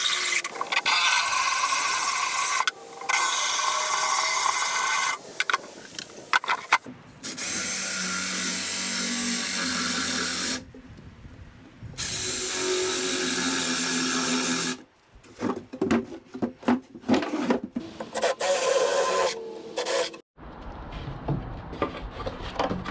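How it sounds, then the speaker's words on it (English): A power drill boring large holes through the wood of an outdoor kitchen unit for camping and road trips, heard as several sustained, loud whirring bursts separated by brief pauses, with scraping and handling noise between them. "As I'm about to drill these giant holes"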